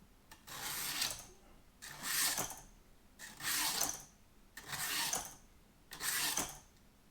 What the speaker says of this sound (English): pull it down through there and it sharpens the knife